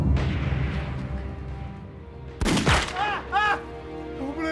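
A Japanese sniper firing in a war film: a sharp gunshot crack followed by ringing echoes and a second ricocheting report, heard over a low background with no talk.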